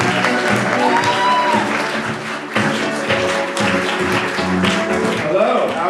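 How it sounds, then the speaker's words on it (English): A comedy club audience applauds a stand-up comedian with loud, sustained clapping and some crowd noise throughout. "Please give a warm round of applause for Andy Haynes."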